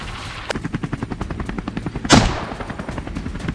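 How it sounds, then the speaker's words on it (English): Rapid gunfire from a helicopter hunting wild boar in Texas, a fast regular train of sharp shots over the steady beat of the rotor, with one louder, heavier blast partway through. "Gunfire erupts, one by one."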